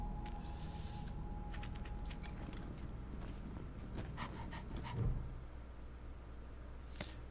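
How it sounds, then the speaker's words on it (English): Dogs in the post-apocalyptic game Wasteland 3 pant softly in short, irregular breaths, with faint creaks and a few sharp clicks over a low steady background hum. "dogs outside, cool."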